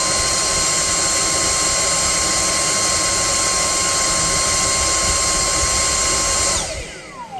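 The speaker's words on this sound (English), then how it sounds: "we're going to be using this Dyson hand vac, which, to be honest, are quite loud hand vacs for what they are" Dyson hand vacuum running at full power, a loud steady high-pitched motor whine with a broadband airflow roar that holds for about six and a half seconds, then cuts off and spins down.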